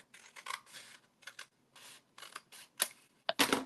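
Several short scissor snips and rasping cuts trimming a mini album page, in irregular bursts with brief pauses, close and fairly quiet.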